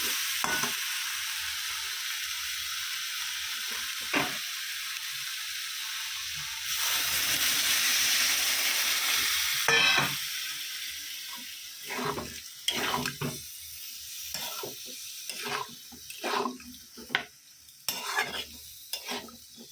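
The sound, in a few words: water added to frying curry, sizzling and stirring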